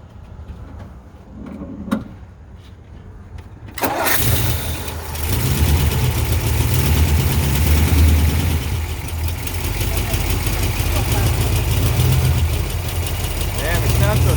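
A 1954 Mercury Monterey with a 292 engine and Tri-Power carburetors cranks and fires after a quiet pause, then settles into a loud, rumbling idle with faint voices nearby.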